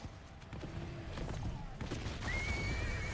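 Horse neighing amid battle in the video game Lord of the Rings: Conquest, a faint rising whinny emerging late over low rumbling combat noise and hoof-like thuds, fairly distant.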